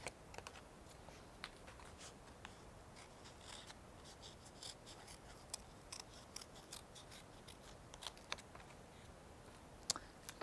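Soft, crisp snips and clicks of scissors cutting paper at irregular intervals in a quiet room, with no talking.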